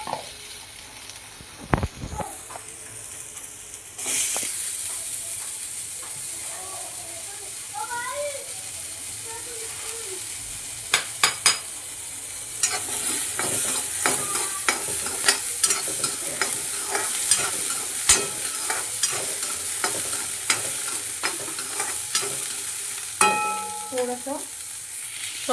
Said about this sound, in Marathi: आता मी ह्याच्यामध्ये एक एक करून भाज्या टॉस करून घेणार आहे. पहिले फ्लावर घेतलेला आहे.